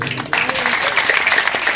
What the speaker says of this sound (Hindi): एक बार अपने जोरदार ताली बजाओ